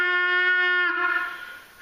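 A Haint Gobble turkey call blown with a steady flow of air and no tongue flutter gives a single smooth, buzzy, harmonic tone held for about a second up close, then trailing into breathy air.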